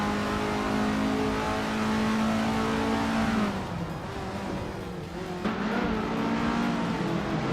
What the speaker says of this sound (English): the race at Du Grand Zambouk has just kicked off, and leading the pack is the Scuderia Veloce car in the Formula 1300 class, a classic 1979.